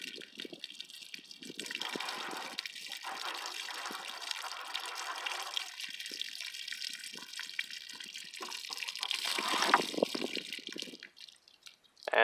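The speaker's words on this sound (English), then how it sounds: "let's dump the water out of jug number 5 to get a better look at what's in there" Water pours and gushes out of a plastic jug after an 8mm Mauser penetration test, a steady splashing stream lasting several seconds, louder and sloshing near the end before stopping.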